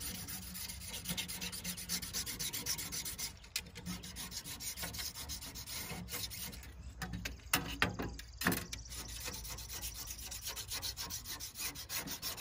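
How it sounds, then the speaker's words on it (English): Razor knife scraping tree pitch off a pruning blade, producing close, repeated rasping strokes in an uneven rhythm with brief pauses and no talking. "Get all the pitch off of the blade."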